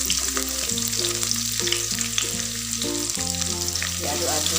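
Shallots hit a pan of already browned garlic for a spicy-sweet sausage and meatball stir-fry, a constant sizzle running beneath loud tonal background music.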